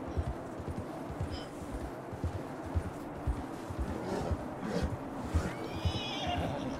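A horse in a video game whinnies amid steady clip-clopping hooves and low rumbling ambience, with a couple of brief neighs standing out over the continuous background.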